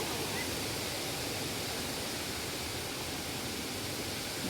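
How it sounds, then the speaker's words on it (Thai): A waterfall beside a hiking trail at the Chet Sao Noi falls in Saraburi pours in a steady, dense roar that holds evenly throughout, close and with no talking. "นี่ก็น้ำตกอีกระหว่างทางเดินขึ้นไป"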